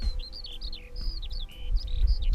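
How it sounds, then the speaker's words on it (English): A skylark sings in open country, a rapid string of high, warbling chirps and trills carried over a low rumble of background noise. "Skylark calling."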